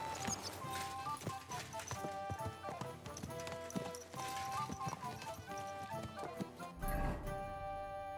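Rhythmic clip-clop of a ridden horse's hooves in Kingdom Come Deliverance II, steady and fairly close, running under a bed of game music throughout.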